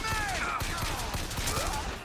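Rapid gunfire in the video game BioShock Infinite, a fast run of sharp shots under overlapping in-game tones and effects, close and loud.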